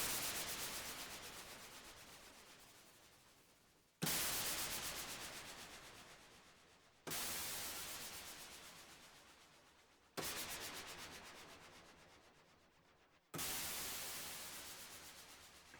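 Five white noise sweeps for electronic music transitions, each starting as a bright loud burst of hiss and fading downward over about three seconds before the next one, repeating evenly, with no voice.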